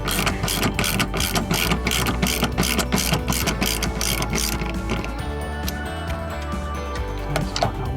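A hand ratchet removes the bolts holding the door lock actuator of a 2006 Porsche Cayenne, with rapid, even clicking up close through the first half that then settles into looser mechanical rattling.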